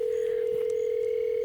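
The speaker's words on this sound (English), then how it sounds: "Dial the number." A steady telephone dial tone holds at one pitch without a break, clear and alone, in a children's yoga session where an imaginary phone call is being made.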